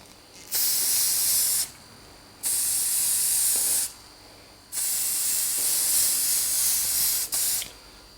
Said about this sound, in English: And then I just give it another spray.